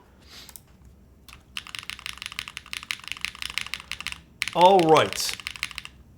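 Clicky, rapid keystrokes on a custom mechanical keyboard with a Nixie spacebar, fairly loud and close, running in steady bursts; a brief spoken remark at the start and a short swooping sound near the end.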